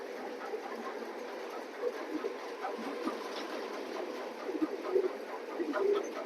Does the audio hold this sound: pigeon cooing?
yes